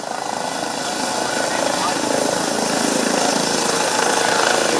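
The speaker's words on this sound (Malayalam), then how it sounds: "ഹെലികോപ്റ്റർ അതിൻ്റെ ആ ചിറക് അടിച്ച് ഉയരുകയാണ്" An air ambulance helicopter lifting off, its rotor giving a continuous loud, rhythmic chopping thrum that holds steady and builds slightly, with talking heard over it.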